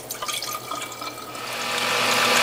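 French sorrel juice pouring from a beaker into a bottle, a soft splashing trickle that grows into a steadier, louder stream of liquid toward the end.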